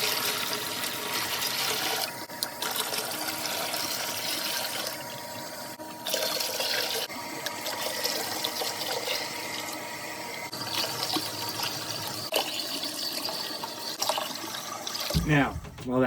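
Water from pitchers pours continuously into a fish tank, a sustained splashing gush that shifts in tone as each pitcher empties, with brief pauses between pours and a clunk at the end.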